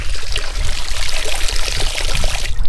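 Coolant water gushes from the thermostat housing of a Ferrari F430, a loud, close, rushing pour that stays steady throughout with no voices.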